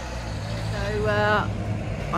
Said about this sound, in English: I'm now driving through the mountain